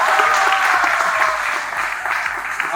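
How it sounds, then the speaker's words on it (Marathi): Enthusiastic audience applause at a Marathi cinema event, dense and sustained hand clapping from a large crowd, loud and steady throughout with no one speaking. "तुमच्या प्रयत्नांसाठी एकदा जोरदार टाळ्या होऊ द्या"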